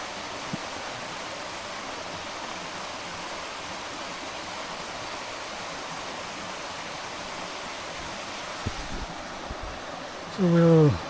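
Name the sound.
river water flowing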